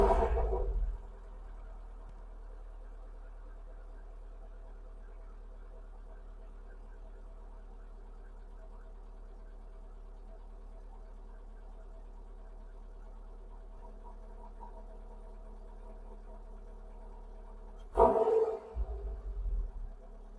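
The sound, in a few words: car engine idling after O2 sensor and fuel filter change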